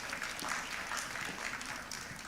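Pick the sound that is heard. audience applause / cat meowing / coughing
audience applause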